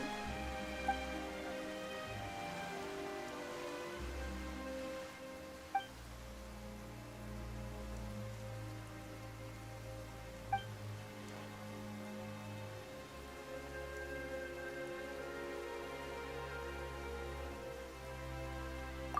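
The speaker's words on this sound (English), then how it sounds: "Why is it raining all of a sudden?" Steady rain falls in the Genshin Impact video game, a soft continuous patter with a few faint drips, mixed with quiet background music.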